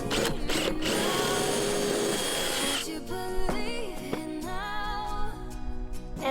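A power drill bores pocket holes in plywood with a loud, sustained whir, then stops and restarts in shorter bursts with shifting pitch as the bit winds up and down.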